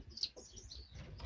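Birds in a bird shed give a few faint high chirps and brief wing flutters near the start, with soft shuffling and low room noise the rest of the time.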